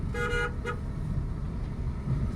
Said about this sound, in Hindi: लॉन्ग हॉर्न दो, लंबा हॉर्न बजाओ